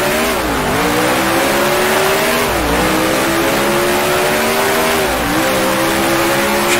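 A 1966 Formula One race car engine in the racing game Grand Prix Legends howls loudly and continuously, with the pitch dropping through gear changes and engine braking, then climbing again in repeated cycles.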